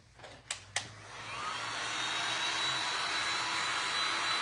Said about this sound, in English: real quick, I'm going to hit that with my dryer